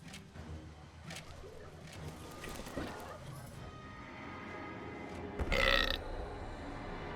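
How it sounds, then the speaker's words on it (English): A deep, drawn-out burp from a hellhole in the dungeon-building video game Dungeons 3 rumbles through game sound, with a brighter burst near the end. "The hellhole rewarded the sacrifice of a live hero with a respectable burp."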